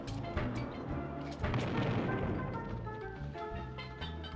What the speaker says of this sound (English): Maybe you can shoot the cannon.